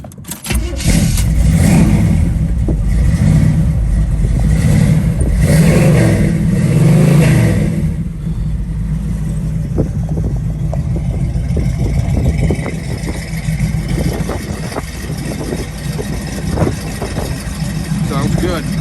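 A 1969 Chevrolet Camaro engine cranks and fires up close, revving loudly for several seconds before dropping to a steady, rumbling idle that runs on to the end.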